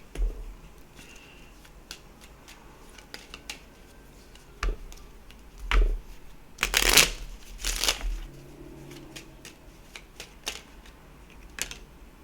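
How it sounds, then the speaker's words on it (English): Angel Whispers oracle cards being shuffled, a soft papery riffle with a couple of louder bursts midway, near and alone over a quiet background. "Let's get an Angel Whispers card out here."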